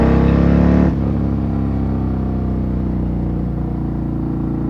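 A Harley-Davidson CVO Road Glide ST with a 135 engine pulls hard at about 3,500 RPM in third or fourth gear, a loud, steady mechanical drone that drops slightly in pitch after the first second.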